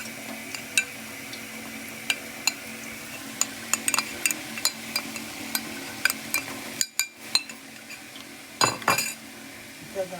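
A spoon scrapes and clinks against a pan while beetroot fry with grated coconut and chilli powder is stirred, giving a string of sharp metallic taps at an irregular rhythm over a low background hum.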